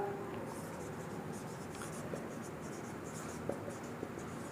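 Chalk or a marker writes on a classroom board in a steady, faint scratching that runs throughout, set against a room hum with no speech over it.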